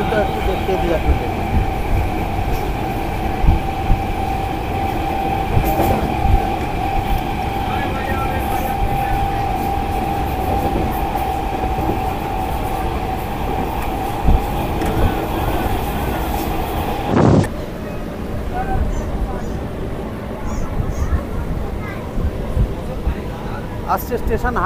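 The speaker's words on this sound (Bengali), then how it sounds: "ছেড়ে দিল আমাদের ট্রেন শিবাইচন্ডী স্টেশন।" A Howrah-Bardhaman chord local train rolls steadily along the rails in Hooghly district, a continuous rumble heard from inside the coach with a sharp jolt near the end and faint passenger chatter beneath.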